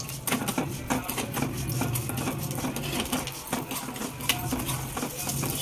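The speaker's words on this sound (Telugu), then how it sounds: "1 స్పూన్ నెయ్యి వేసుకొని సేమియా వేయించుకోవాలి." Vermicelli frying in ghee for sabudana kheer is stirred with a spoon, giving steady close scraping and light metallic clinks against the pan, with a soft sizzle underneath throughout.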